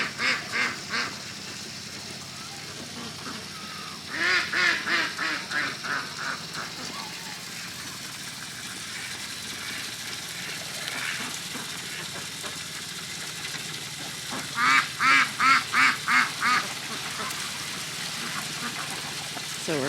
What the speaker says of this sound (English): So we're filling up the duck pool, and you see them? Oh, so silly ducks.